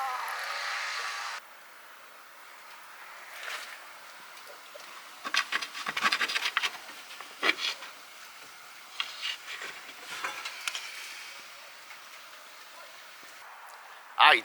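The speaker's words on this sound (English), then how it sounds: "It's starting to rain" Light rain beginning to fall on an allotment in autumn, scattered soft pattering drops on surfaces at close range, irregular and faint, with some louder rustles in the middle.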